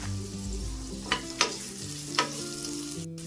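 Potatoes frying in a pan with chopped ginger and green chili, a quiet sizzle under a low hum, broken by three or four sharp stirring scrapes.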